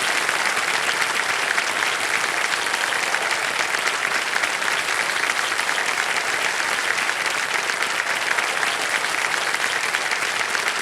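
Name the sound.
studio audience applause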